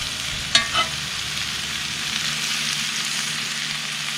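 Onions and peppers sizzle on a grill beside sausages, a steady broadband hiss throughout with two brief scraping clicks near the start.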